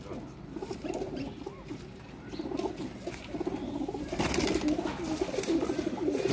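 Pigeons in a loft, including a fancy teddy hen and grey females, coo softly and continuously in the background with faint rustling, the cooing growing a bit fuller toward the end.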